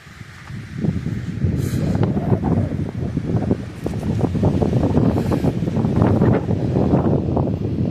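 Steady gusty wind on a hiking trail near Sprague Lake in Rocky Mountain National Park buffets the microphone with a continuous low roar and rustling, swelling slightly louder toward the end.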